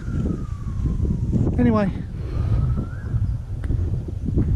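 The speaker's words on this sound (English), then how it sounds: "There's a siren going somewhere." An emergency vehicle siren wails somewhere in hilly open country, its falling and rising tones carried from a distance over wind and footsteps, with someone briefly speaking.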